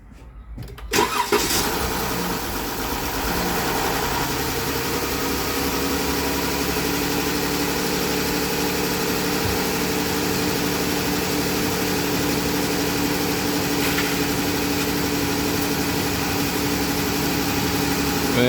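A car engine with large displacement, freshly refilled with oil after an oil filter housing replacement, cranks briefly and catches, then settles into a steady, even idle that drones on without voices.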